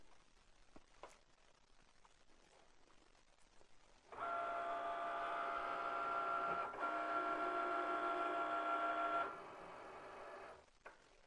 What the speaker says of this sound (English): I'm just going to start the cut so you can see how the Cricut moves around and cuts